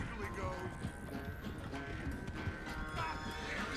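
Horse hooves clip-clop in a steady rhythm in the video game Red Dead Redemption 2, mixed with background game sounds and music at moderate level.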